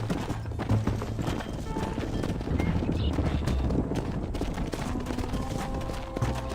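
Horse hooves galloping in Red Dead Redemption, a dense continuous clatter of clip-clop beats with scattered gunfire-like bursts and game ambience, without speech.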